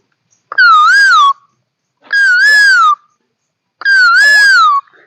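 A voice imitates a koel's call three times, each a long, clear, hooting wail with a wavering pitch, separated by short silences.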